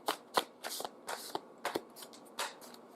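Tarot cards shuffled by hand in a quiet room, a series of quick papery riffling bursts repeating every fraction of a second, close and fairly soft, with no talking.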